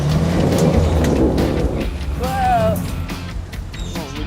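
A 4WD vehicle climbs a steep slope, its engine revving hard with wheel spin, a loud, rough, close roar that eases after a couple of seconds as people talk over it.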